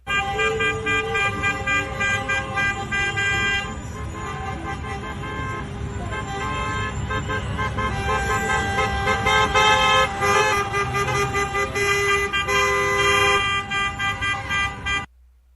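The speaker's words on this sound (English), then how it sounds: "And then there's these little truck convoys going on." A truck convoy honks its air horns and car horns nonstop, loud and layered, with the blasts overlapping against a steady roar of traffic.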